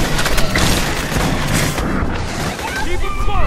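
Explosions and heavy gunfire in a chaotic multiplayer match of Aliens: Colonial Marines, with dense booms and crackling blasts filling the whole moment. Voices talk over the din.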